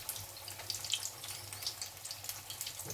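Pumpkin fritters in crisp batter deep-fry in hot oil, giving a steady close sizzle with bursts of crackling and popping bubbles, with no voices.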